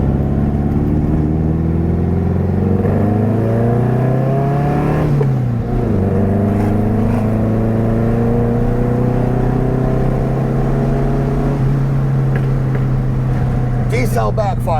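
A 1966 VW Beetle with a 1776cc engine revs loud and steadily, the pitch dipping and climbing, with a few sharp backfire pops near the end.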